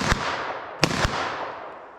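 Three sharp gunshots fired at a target, one early then a close pair about a fifth of a second apart, loud and near with ringing decay and no talk.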